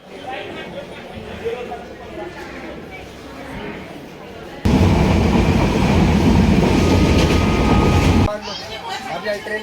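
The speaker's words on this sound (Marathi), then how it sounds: "ही आपली ट्रेन आहे" A long-distance passenger train rolls past on the rails, its heavy rumble and clatter swelling suddenly loud and close for several seconds before dropping back to a quieter background under faint voices.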